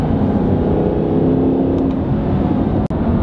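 A steady, smooth engine drone from inside a Mercedes SLS AMG moving fast at 80 to 90, loud and constant with a low rumbling hum.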